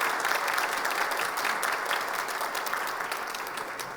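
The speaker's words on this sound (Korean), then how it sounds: "여러분들 박수로 한번 격려해 주시기 바랍니다" A church congregation at a Sunday worship service breaks into sustained, dense applause, a steady wash of many hands clapping together for several seconds and easing slightly toward the end.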